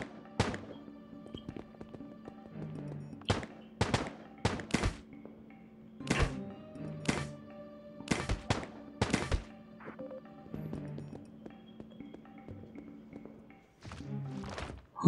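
Pistol shots in the shooter game Agent Action crack out as sharp, separate reports in irregular pairs and clusters over a faint game background, fairly quiet overall.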